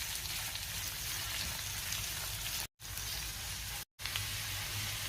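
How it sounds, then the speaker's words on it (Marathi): Sliced onions sauté in a pan for chole masala, giving a steady, close broadband sizzle that runs without voices, briefly cut by two short silent gaps. "कांदा चांगला लाल रंग होईपर्यंत मी परतून घेणार आहे"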